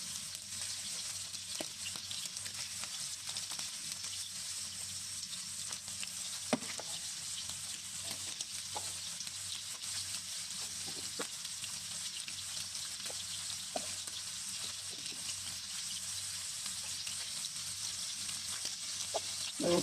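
Shrimp brown in a hot pan with a steady, close sizzle that holds for the whole stretch, broken by scattered small pops and crackles, with no voices over it.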